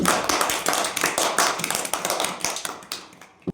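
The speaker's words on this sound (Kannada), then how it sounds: "ಚಪ್ಪಾಳೆ ತಟ್ಟೆ" Children clap their hands in a dense, fast burst of overlapping claps that keeps going and then fades into a few scattered last claps.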